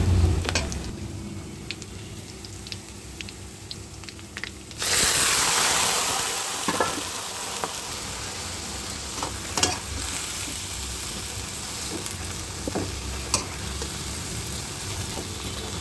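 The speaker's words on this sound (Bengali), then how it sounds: "শাক রান্না হচ্ছে, শাক ভাজি ফোড়ন দেওয়া হবে" Ash gourd greens frying with shrimp in a pan: a quiet stretch with light clicks, then a sudden loud sizzle as the ingredients hit hot oil, continuing with steady crackling and occasional stirring scrapes.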